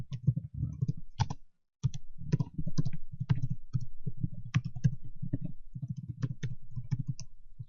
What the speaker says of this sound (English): So I can start just typing in email addresses.